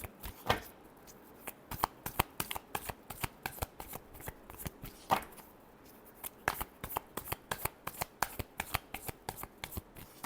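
Tarot cards shuffled by hand in rapid riffling bursts, close and crisp, with brief pauses between runs of sharp flicks.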